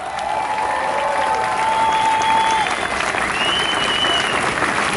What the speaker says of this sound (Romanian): Uitați-vă și aplaudați-i!